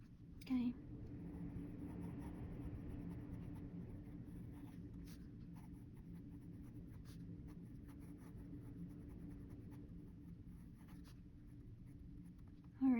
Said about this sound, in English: It just writes like a fountain pen.